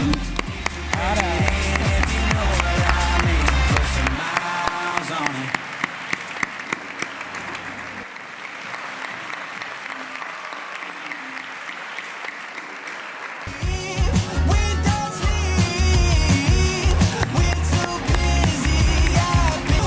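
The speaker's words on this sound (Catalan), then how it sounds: "Un fort aplaudiment." Loud, sustained audience applause fills a graduation ceremony hall for the full stretch, a dense crowd of clapping hands. It eases slightly midway and then swells again toward the end.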